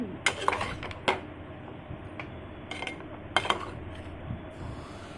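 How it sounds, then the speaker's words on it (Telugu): A spoon stirs cut cucumber pieces in a kadai, clinking and scraping against the metal pan in a few sharp bursts over a low background hum. "వేసుకున్నాక కొంచెం తిప్పుకొని మొత్తం కలిసే వరకు తిప్పుకొని"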